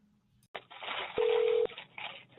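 A telephone call goes through an answering line, with a burst of dialing tones followed by a steady ringback tone of about half a second, then a short pause and faint line noise; no voices.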